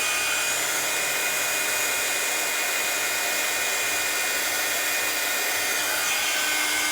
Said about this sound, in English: heating the heat tool up